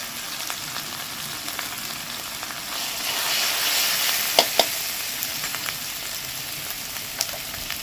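Turmeric and cumin powder sizzle softly in a pan while being sautéed for mint chicken, a gentle continuous frying hiss with a few sharp clicks of stirring against the pan.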